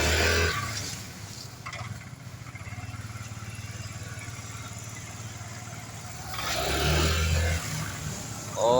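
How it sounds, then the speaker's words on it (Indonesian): A Honda Vario scooter engine hums at a steady idle up close, then swells into a louder rev as the throttle opens near the end, with rougher mechanical noise at the start and finish. "Coba tarik gasnya."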